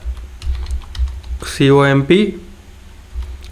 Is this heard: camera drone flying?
no